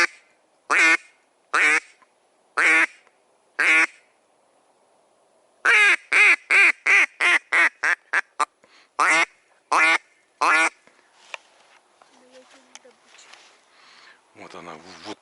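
A three-in-one duck call quacks out in the open to lure a crow, loud and close in clipped bursts: four spaced single quacks, then a fast rattling run of nine or so, then a few more, fading into faint outdoor sounds.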